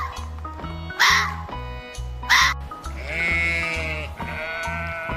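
A sheep bleats several times among farm animals, with loud wavering calls rising over steady background music.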